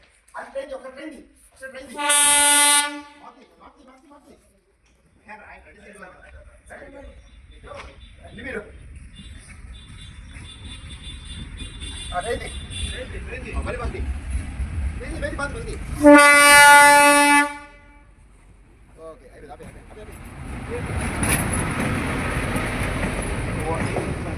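A train horn sounds twice in long harmonic blasts, separated by a dog barking and people talking, as the rumble of an approaching train grows louder, at Araku.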